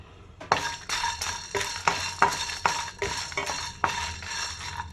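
Dried red chillies roasting in a pan for an Andhra-style mutton curry, with a utensil repeatedly scraping and clinking against the metal in a steady rhythm, close and moderately loud, no voices.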